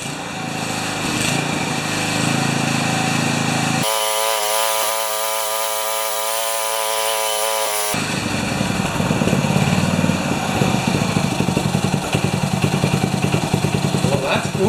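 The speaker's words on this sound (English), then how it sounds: "Should start like a champ," A warm 3HP Briggs & Stratton engine on a Turf Power tiller is started without choke and runs with a loud, steady, buzzing small-engine drone, close by, with someone speaking over it.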